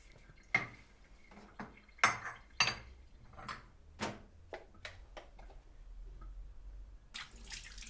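Coffee being made in a kitchen: sharp, scattered clinks of cups, dishes and cutlery, fairly close, followed by a short rush of running water at the end, with no voices.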